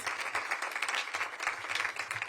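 Brief burst of audience clapping at a Washington, D.C. celebration for a new Ward 8 technical school, moderately loud with distinct overlapping claps throughout.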